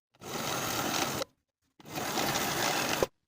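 A sewing machine stitches buttonholes into the right front bodice of a lined woman's coat, running in two steady bursts of about a second each with a short pause between, close and even.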